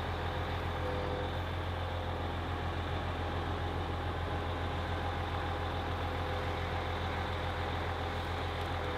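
A gravel delivery truck's diesel engine idles steadily at a distance, a low continuous rumble with no talking.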